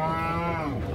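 A single long, deep moo from a cow at a cattle fair, loud and close, held for about a second.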